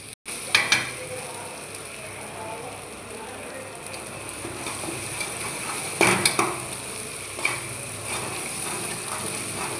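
Ginger garlic paste sizzles and is stirred in a hot pan for Mangalore-style mutton dalcha, a steady close hiss broken by a few scraping clinks of the spoon.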